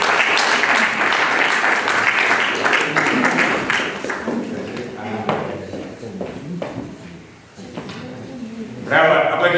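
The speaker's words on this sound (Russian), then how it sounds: "Браво, аплодисменты." An audience at an award ceremony breaks into sustained loud applause, a dense rattle of many hands that thins toward the end before a brief swell, with voices mixed in.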